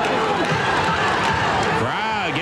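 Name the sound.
wrestling arena crowd cheering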